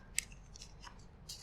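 Scissors snip through paper or card with several crisp, close cuts at an uneven pace, in an otherwise quiet room.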